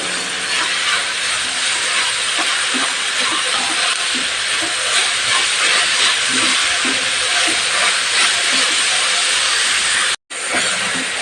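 Spinach greens sauté in a hot pan with a loud, continuous, hissing sizzle that is broken only by a moment of silence near the end.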